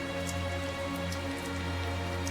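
Steady rainfall in the video game Tales of Zestiria, a continuous patter of drops over layered ambient background tones, even and moderately loud with no voices.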